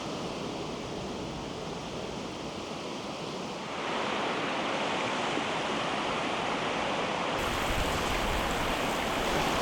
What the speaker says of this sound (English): To the right is the waterfall.